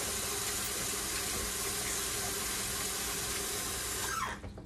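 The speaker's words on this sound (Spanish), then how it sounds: "Voy a lavar con agua helada." Ice-cold tap water pours steadily over meat and vegetables being washed in a kitchen sink while soup is cooked, a loud close continuous rush that cuts off abruptly near the end.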